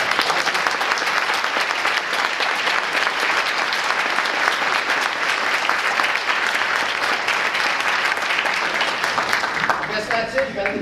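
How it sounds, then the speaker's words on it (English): A conference audience breaks into sustained, dense applause that carries evenly for about ten seconds before thinning out at the end. "I want to give this group here a chance to applaud the audience and vice versa"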